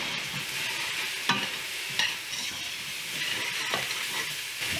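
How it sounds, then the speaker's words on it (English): Ground beef and peppers for chili crackle and hiss in a hot pan, a steady frying sizzle with a few sharp scraping strokes as the mix is stirred, near and without speech. "I'm going to check on my ground beef and my peppers"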